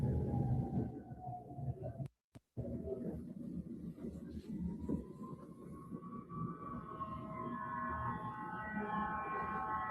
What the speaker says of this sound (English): You should just be hearing sirens.